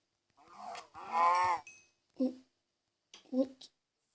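A cow in a game moos in a few distinct bursts, with one long drawn call followed by two shorter ones separated by silence, clear and close.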